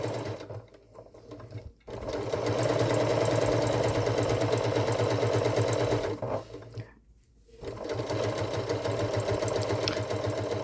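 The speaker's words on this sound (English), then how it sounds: "now we're going to sew the exterior, 3/8 inch seam allowance" A sewing machine runs steadily as it stitches the exterior seam of a fleece Christmas stocking, a close, continuous motor hum with a brief slowdown and pause midway before resuming.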